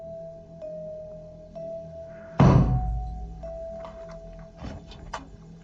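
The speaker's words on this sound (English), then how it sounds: "I just heard a knock upstairs." A single heavy knock booms from upstairs in a quiet cabin, loud and broad, then fades over a steady faint electronic tone, with a few softer taps after it.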